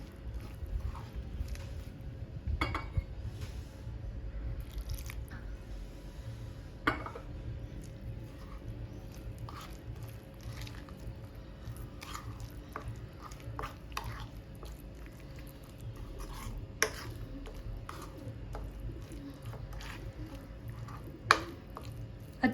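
Spice masala being mixed by hand for a surmai fish fry, soft wet squishing and occasional small clicks scattered at an unhurried pace, close and quiet.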